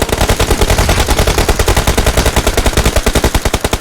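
Rapid automatic gunfire in a mobile shooter video game, a long unbroken stream of fast, evenly spaced shots that is loud and close for the whole stretch.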